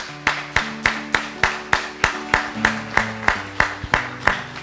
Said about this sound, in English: Guys, won't y'all give the Lord a big hand clap this morning?